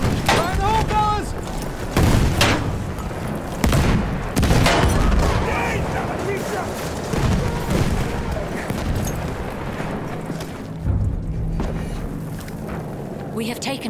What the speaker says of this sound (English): Throwing a grenade! Fire in the hole, fellas!